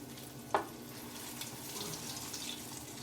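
Eggplant slices fry in hot grease in a pan, a faint steady sizzle with a small clink near the start and no talk.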